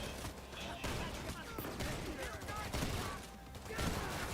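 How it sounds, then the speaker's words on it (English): Shotgun blasts in the video game Payday 3 fire repeatedly in a busy heist firefight, sharp bursts layered over game music and action while a voice talks intermittently. "I love the punch in the shotguns in Payday 3"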